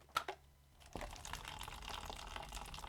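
Melon jelly liquid being poured, with a couple of faint clinks at first, then a soft, steady splashing pour that runs on quietly to the end.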